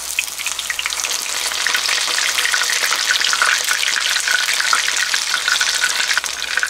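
Pork cutlet frying in a pan over low heat gives a steady, close crackling sizzle that holds at an even level throughout, with no voices.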